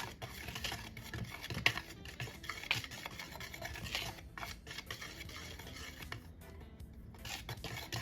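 Sifted dry ingredients for coconut bread being mixed in a bowl, quiet soft stirring and scraping with a few light clinks of utensil on the bowl, close and low in level, with no talk.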